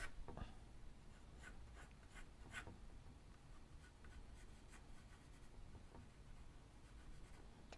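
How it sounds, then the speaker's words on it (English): Hard 2H pencil lead scratching lines on paper, a steady close-up scraping texture with quick bursts of faster strokes, quiet and without talk. "I'm using a 2H pencil here."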